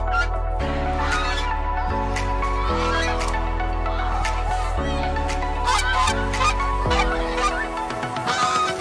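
Geese honk loudly and repeatedly, harsh overlapping calls near the microphone set over a steady backing music bed, with no talk.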